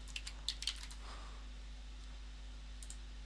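A few quick keystrokes tap on a computer keyboard close by, a short burst of clicks at the start and two more near the end over a low steady hum.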